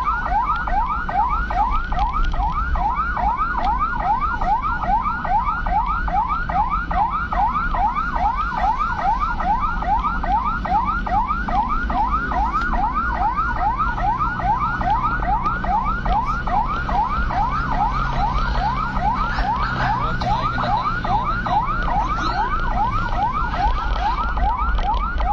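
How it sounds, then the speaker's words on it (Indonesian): An ambulance siren wails continuously in a fast, steady up-and-down cycle, loud and close throughout, while it meets an official state convoy on the road during a morning escort, with engine rumble underneath. "Detik-detik ambulans ketemu iring-iringan pejabat negara."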